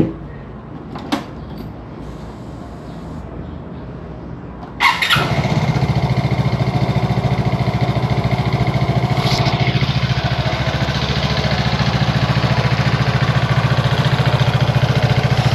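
A Vespa Primavera S 150 scooter engine cranks and catches after a few faint clicks, then settles into a steady, close, even idle that holds to the end with no talk.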